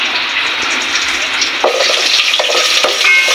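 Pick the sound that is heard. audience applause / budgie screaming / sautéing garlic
sautéing garlic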